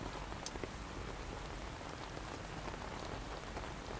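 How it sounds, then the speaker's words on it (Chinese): Steady rain falling on outdoor surfaces, a dense continuous hiss with scattered soft droplet ticks, quiet and even throughout with no voices. "果然被你说中了，又下雨了。"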